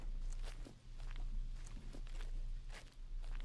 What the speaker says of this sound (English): Those footsteps freaked me out. They sounded so weird.